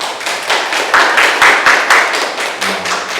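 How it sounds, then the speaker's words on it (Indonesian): Students in an Islamic religion classroom give a short round of hand clapping, with quick, fairly close claps coming in uneven pulses for a few seconds before thinning out. "Kasih tepuk tangan dulu."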